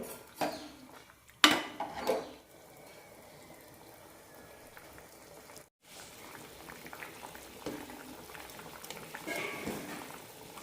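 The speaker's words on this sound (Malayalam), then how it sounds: "പുളി ഒഴിച്ച ശേഷം ഒന്ന് തിളപ്പിച്ചെടുക്കാം" Noolkhol (kohlrabi) sambar with tamarind bubbles in a pot as a low, continuous simmer, opened by a few loud clattering knocks of utensils and broken by a brief silent gap midway.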